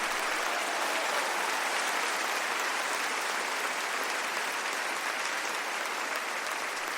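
Steady, thick applause from a worship crowd at a Bible study meeting in Bucaramanga fills the whole stretch, an even roar of many hands clapping together without speech.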